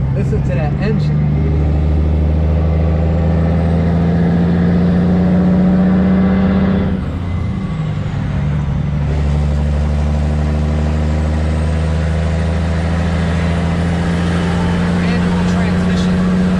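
A manual-transmission car's engine drones steadily as it builds speed on the road, with a strong low hum and a brief dip in pitch midway, like a gear change, under occasional talk.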